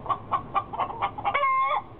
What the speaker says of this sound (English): That's a chicken.